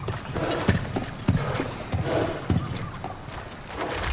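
A kelpie steed in God of War Ragnarök clopping along with rhythmic hoofbeats, close and evenly paced, with a brief whinny among the steps and no voices over it.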